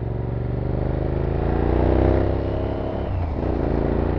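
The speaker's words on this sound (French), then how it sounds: "moi qui ai une moto très bruyante derrière et qui ne suis pas très loin de toi" A loud Kawasaki Versys 650 motorcycle engine drones steadily and close by, its rumble swelling briefly midway with no speech over it.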